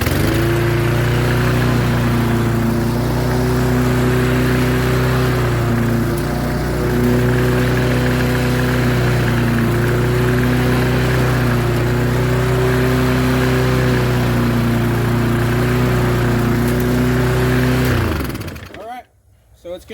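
A loud, steady engine drone from an all-wheel drive lawn mower runs close by at a constant pitch for about eighteen seconds. It then cuts off abruptly, leaving a few faint clunks.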